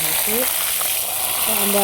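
Spices tempering in hot oil for green chili sambar sizzle and crackle loudly, a steady bright frying hiss filling the whole moment, with faint voices in the background.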